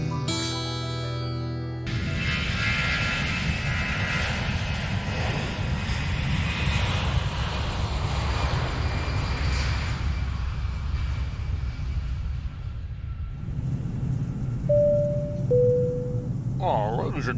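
Airplane cabin and engine noise, a steady loud droning rumble filling the space, with a voice heard faintly under it and a two-tone chime near the end.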